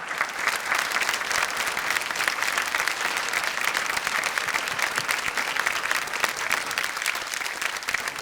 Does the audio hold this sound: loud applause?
yes